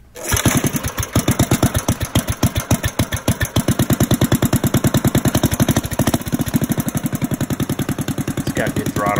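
Briggs & Stratton Raptor 3 race engine mounted on a cart with a diaphragm fuel pump, fired from cold for the first start of the day, then settling into a loud, close, rapidly pulsing idle.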